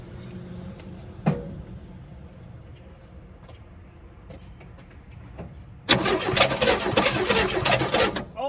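A 1964 Chevelle engine, sitting unused for decades, is primed with a splash of gas and cranks quietly with a few clanks before it catches and fires into a loud, rough, rumbling run up close.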